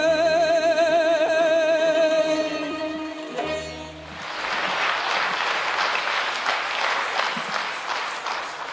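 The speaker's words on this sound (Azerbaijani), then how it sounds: "Kənan Novruzov ifa elədi və tamaşaçılardan alqışı aldı" Sustained applause from a studio audience after a mugham singer's Orta Segah performance, rising as the sustained vocal and instrumental tones end around the midpoint and continuing steadily to the close.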